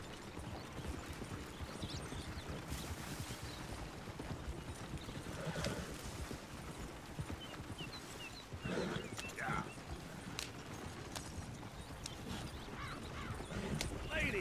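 Steady clip-clop of horse hooves at a walking pace in the video game Red Dead Redemption 2, close and continuous, with occasional voices and a brief whinny in the background.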